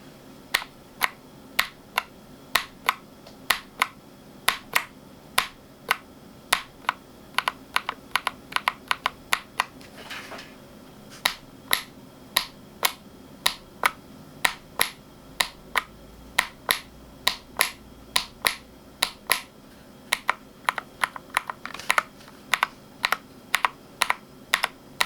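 Typing on a keyboard with BBN linear mechanical switches: sharp, close clicky keystrokes in uneven bursts and pauses, each press a crisp clack, heard alone without talk.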